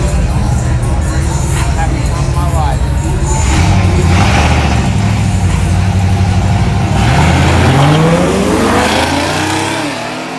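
A street race car accelerates hard at a drag-racing event, its engine revving loud and close and then winding up again as it pulls away, with people talking over the roar throughout.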